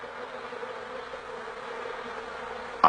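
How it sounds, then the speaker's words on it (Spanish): Honeybees in a hive fan their wings to move air and cool it, making a steady, close, droning buzz that holds level throughout and ends with a brief louder bump. "El vigoroso movimiento de sus alas produce corrientes de aire que evaporan el agua, y así desciende la temperatura."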